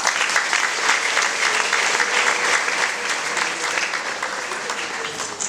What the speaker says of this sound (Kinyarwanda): Mugize amashyi twongera ababyeyi.